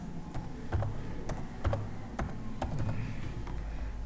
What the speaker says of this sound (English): then I'm typing server manager.